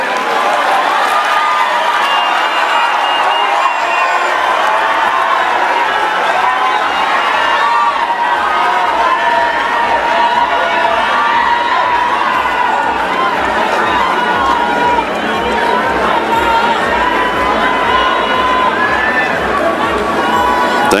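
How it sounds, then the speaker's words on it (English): A large crowd at a devolution conference in Kenya claps and cheers continuously after a speech by Raila Odinga, a dense roar of applause and shouting voices that holds steady and loud throughout. "Another round of applause, please"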